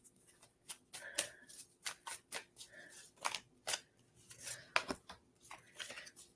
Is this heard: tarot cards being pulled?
yes